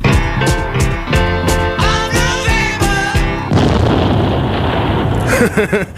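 Ending of a song: rhythmic piano chords and band play loudly, then a sudden booming explosion cuts in and rumbles for a few seconds before a few faint sung notes return.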